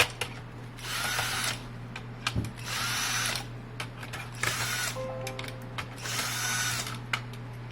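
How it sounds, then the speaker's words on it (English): A power drill unscrews rear screws to remove a Ford Sync2 head unit module, running in four bursts of whirring with ratcheting clicks and small clatters between them, close and fairly loud with no talking. "there's a couple screws at the back. So once you unscrew these, again, this is a Sync2 module."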